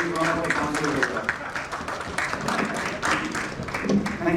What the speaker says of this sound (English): Give a big round of applause because he's one of the council.